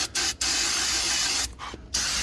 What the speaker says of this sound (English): Spray some brake cleaner on that.